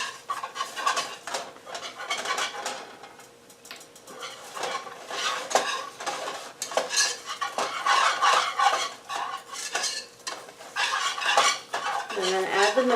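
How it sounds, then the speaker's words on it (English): Flour and butter roux is stirred in a pan with a utensil, producing repeated scraping and clinking strokes at an uneven rhythm, close and fairly loud. "Make sure all the flour is blended in with the butter."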